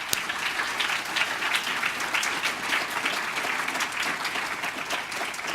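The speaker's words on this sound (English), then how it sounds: "She deserves a huge round of applause as our Director of Operations." Audience at a Food Tank summit in Chicago applauds steadily, a dense, even patter of many hands clapping for several seconds with no talk over it.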